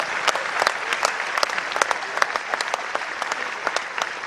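An audience at a Gujarat political speech breaks into loud, steady applause, with dense clapping from many hands that keeps going the whole time and stays close and full.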